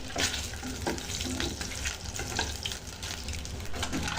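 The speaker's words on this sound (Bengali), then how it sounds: "তেলটা একটু গরম হলে এর মধ্যে আমি সিদ্ধ করা ডিমগুলো দিয়ে দিচ্ছি" Hard-boiled eggs fry in hot oil with turmeric powder, giving a close, steady bubbling sizzle with some stirring scrapes and no speech.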